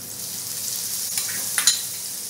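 Garlic, chili and coriander paste sautés with green pulao vegetables in a pan, giving a steady bright hiss with a couple of brief louder crackles near the end.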